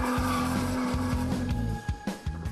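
A Honda NSX drifts with its tires skidding and squealing, a loud engine pulsing underneath in rapid uneven bursts as the slide goes on.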